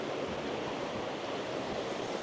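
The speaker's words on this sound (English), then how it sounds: "there's a cool little waterfall that looks like it comes out from the other end of the bridge" A small waterfall pours out beneath a bridge and a house by a river in Portugal, a constant dense rushing wash of water, steady and fairly loud with no pauses or voices.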